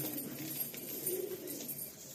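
A breeder pigeon in a Kolkata loft gives soft, low cooing, faint and close, with a light rustle around it and no speech.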